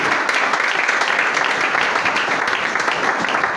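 A church congregation applauds to acclaim the Lord, dense sustained clapping from many hands close by, steady and loud throughout.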